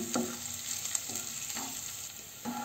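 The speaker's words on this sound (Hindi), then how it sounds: "अब इसको थोड़ा थोड़ा गोल्डन कर लूँगी लहसुन को अदरक को" Chopped garlic and ginger sizzling in hot oil in a pan, a soft steady crackle with a few stirring scrapes, fairly quiet and without talk.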